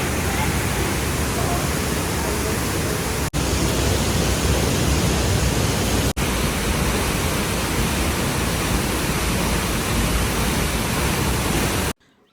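A large waterfall pours down a cliff beside a hill village, a loud, steady, dense roar of falling water that fills the whole clip without pause.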